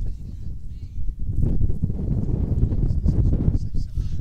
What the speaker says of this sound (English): that wind is gusting and probably shaking the camera around